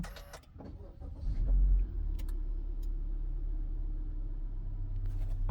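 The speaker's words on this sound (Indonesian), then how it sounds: "Ini kita nyalain mobil." A car engine cranks and catches, settling into a steady low idle that continues to the end, close by with no talk.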